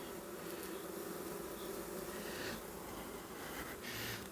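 Honey bees drone in a dense, steady buzz at an opened hive frame during a colony split inspection, the hum constant and close with faint passing variations.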